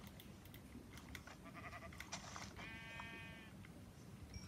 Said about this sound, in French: Là, il y a encore un mouton.